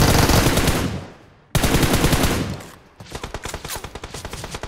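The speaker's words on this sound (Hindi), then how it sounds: "सो यहाँ पे ना मैं जैसे मुंडी दिखा रहा हूँ तो मेरे पे फायरिंग हो रही है" Enemy automatic gunfire in a battle royale shooter, loud rapid volleys in three bursts that fade between them, the last one a lighter, distinct rattle of shots.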